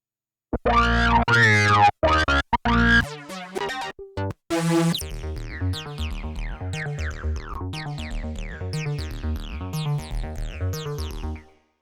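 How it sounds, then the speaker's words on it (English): A Dreadbox Typhon synthesizer runs through several preset sounds, from sweeping bouncy tones and harsh buzzy bursts to a descending sequence of warbling, effect-laden notes. "I'll play some more of the preset sounds to let you listen to the Typhoon"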